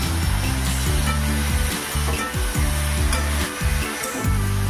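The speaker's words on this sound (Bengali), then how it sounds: "এবার দেব সামান্য পরিমাণে জল" Water added to a pan of frying bathua greens, potato and brinjal with poppy seed paste, a loud bubbling sizzle with repeated clattering stirs of a spatula, close and continuous, no speech.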